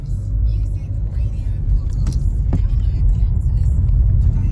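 A Volkswagen Golf shifted into drive pulls away, its engine a steady loud low rumble close by with faint whirring and a couple of brief clicks in the car.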